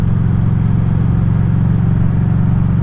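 A Street 500 motorcycle rides along at a steady pace, its engine giving a loud, continuous low rumble and drone that stays even throughout, with no voices.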